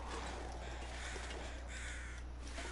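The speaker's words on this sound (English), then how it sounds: "Crows!" Crows caw in the snowy wilderness of the survival game The Long Dark, a steady harsh chorus sitting at moderate level over a constant low ambient hum, with no talk.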